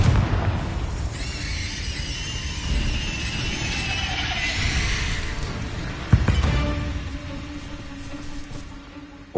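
Confringo fire blast spell in Hogwarts Legacy, a sustained rushing, crackling roar with a hissing high layer, then a sharp bang around the middle followed by a lower rumbling tail and faint ringing tones.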